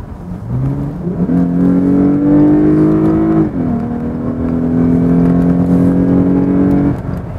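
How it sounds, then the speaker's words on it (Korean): A Lexus GS F engine revs up loudly with a rising intake growl through its Sound Creator system, drops briefly at a gear change, then pulls hard again at a steady pitch. "한번 제가 간격을 벌렸다가 가속을 해볼게요"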